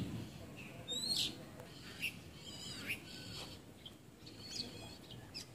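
Birds call at an eco-tourism area on Con Den island in Thai Binh, with scattered faint chirps and whistles over a steady outdoor hiss.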